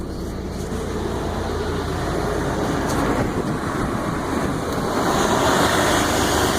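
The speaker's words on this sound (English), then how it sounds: "This truck has a lot of under hood noise, but that's something you kind of expect from a big V8 like this" The big V8 under the hood of a 2007 Dodge Ram drones with a steady, loud rumble heard from inside the cab. The low roar swells slightly toward the end, and no one speaks.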